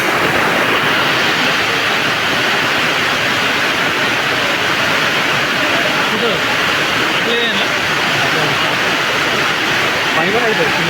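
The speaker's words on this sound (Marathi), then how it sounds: "नारंगाव येथील ग्राउंडवर प्रचंड पाऊस" Heavy downpour pours over an open vegetable market ground in Narayangaon, a dense, loud, unbroken roar of rain that holds steady throughout, with faint voices buried beneath.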